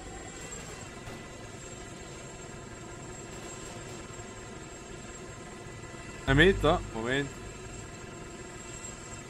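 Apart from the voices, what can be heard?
helicopter engine in video game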